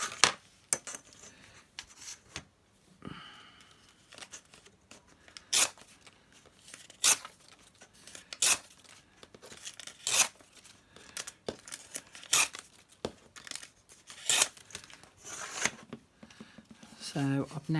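Paper for a craft page is torn in a run of sharp, separate rips and crinkles, close by, spread between pauses, with talking around them.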